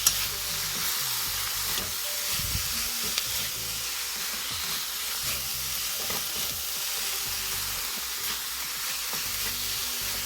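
Egg and cabbage being stirred and fried in a pan, a steady close sizzle broken by repeated scraping and tossing strokes from the utensil, with no voices.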